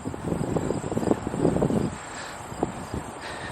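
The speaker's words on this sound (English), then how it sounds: "the wind's picking up a little bit and I don't have my microphone" Gusty wind buffets an unshielded microphone outdoors in an old Civil War-era homestead cemetery in Salem, a low rumbling roar that swells loud through the first two seconds, then eases into softer, steady buffeting.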